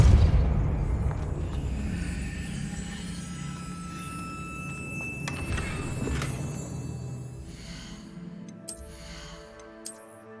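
A Confringo spell explodes in Hogwarts Legacy with a loud blast, followed by lingering rumble, tonal magical ringing and a few sharp pops toward the end.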